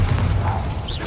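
A Bombarder spell cast in Hogwarts Legacy gives a dense, steady burst of booming, crackling mechanical noise that lasts about a second, loud and close with no voice.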